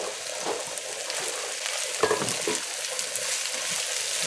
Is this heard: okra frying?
yes